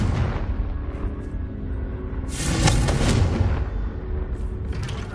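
A Confringo explosion spell goes off in Hogwarts Legacy, a deep booming rumble that flares into a bright crackling burst midway, over a steady low game backdrop.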